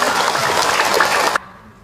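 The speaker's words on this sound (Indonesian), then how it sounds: "Tepuk tangan buat beliau." An audience applauds at a religious lecture, a dense burst of loud clapping that cuts off abruptly after about a second and a half.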